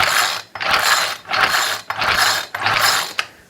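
The starter cord on a Troy-Bilt TB425CS string trimmer engine is pulled four or five times in a row, each a loud, close, rasping zip with short pauses between, and the engine does not catch.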